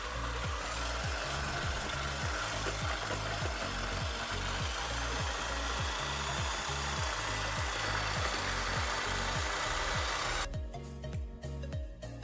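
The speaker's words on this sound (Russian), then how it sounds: "И теперь мы можем взбивать сливки. Всегда начинаю с маленькой скорости." An electric kitchen mixer whips cream at low speed, giving a steady whirring hum with a regular beating pulse that runs for about ten seconds before switching off.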